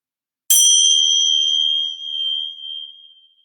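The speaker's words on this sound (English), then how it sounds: "Bell for clarity." A single meditation bell is struck once, close and clear, ringing out with a bright metallic tone that hums and wavers as it slowly fades over about three seconds in otherwise silent surroundings.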